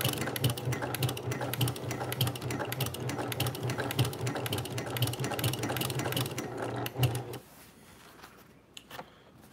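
A Brother PQ1500SL sewing machine stitches at a fast, even hum with rapid mechanical needle clatter, then stops abruptly near the end, leaving a few faint handling clicks, with no voices.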